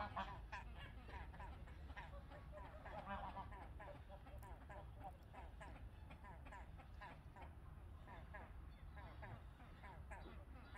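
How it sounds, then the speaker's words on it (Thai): Ducks quack and geese honk in a busy, continuous chorus in a morning garden, with people talking softly underneath and a steady outdoor rumble. "เป็ดฮ้องห่านฮ้องเนาะค่ะเนาะ"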